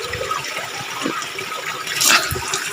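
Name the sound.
spring water flowing strongly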